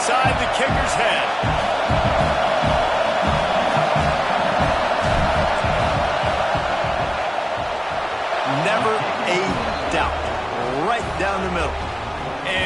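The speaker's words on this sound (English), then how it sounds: "This crowd trying to do its part to get inside the kicker's head." Stadium crowd in a football video game roars and cheers steadily throughout before a field goal attempt, a dense continuous wash with brief bursts, while a commentator talks over it.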